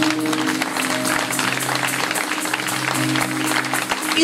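A church congregation applauds in a steady, dense wash of clapping that holds at full volume throughout, with musical tones sustained underneath.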